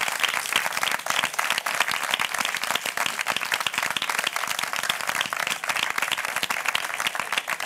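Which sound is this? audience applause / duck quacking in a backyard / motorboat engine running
audience applause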